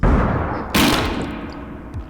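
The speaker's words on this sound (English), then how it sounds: "There's a gunshot." A single sharp gunshot sound effect cracks out about midway, loud and close, with a decaying echo tail over a steady low background hum.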